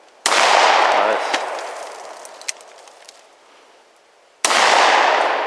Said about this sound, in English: That was another buckshot.